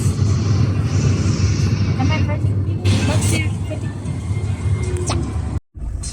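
Road traffic in Switzerland: a car engine rumbles steadily and fairly loud as the vehicle moves off, with passing vehicle noise and people talking over it, and a brief dropout near the end.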